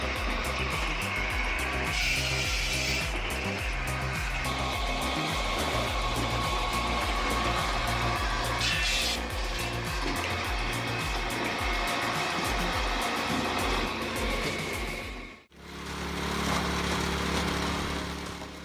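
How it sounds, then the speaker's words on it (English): An automatic firewood processing machine with a log splitter runs continuously, a loud motor drone with rhythmic mechanical clanks and thuds, briefly dipping before resuming. "Simple, compact, easy to operate. That's how this log splitter can be described."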